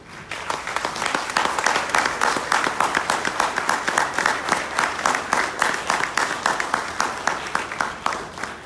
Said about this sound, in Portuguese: vamos a recibir y darle un muy fuerte aplauso a Charles Kemp